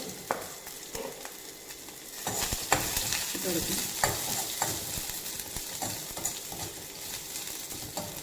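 Crushed ginger, garlic and green chilli fry in hot oil with mustard seeds and curry leaves for a home-style egg roast, a steady close sizzle that swells after two seconds, broken by the scrape and clatter of stirring.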